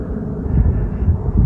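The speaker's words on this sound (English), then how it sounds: "That's an airplane." Airplane passing overhead, a broad low rumbling roar with some wind buffeting on the microphone, steady and moderately loud, swelling slightly toward the end.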